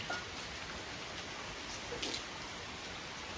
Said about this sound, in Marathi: सकाळपासून म्हणजे सकाळी लागलेला आहे एकदा पाऊस, तर आता डायरेक्ट दुपारी पडतोय.